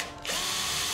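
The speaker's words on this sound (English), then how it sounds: "Drill the mark." A power drill bores into a 15 mm HMR board to mark a circle's centre, whirring steadily and loudly for about a second after a brief lead-in.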